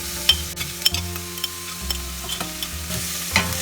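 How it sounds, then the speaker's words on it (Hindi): Cabbage, broccoli, celery, bell pepper and mushroom fry in a pan for vegetable soup, a steady low sizzle broken by repeated sharp clinks and scrapes of a spoon stirring the pieces. "वेजिटेबल्स हमें ज़्यादा फ्राई नहीं करना है, 3-4 मिनट ही फ्राई करना है हमें।"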